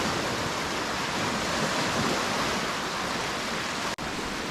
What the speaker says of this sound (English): I told you he's gonna throw some waves.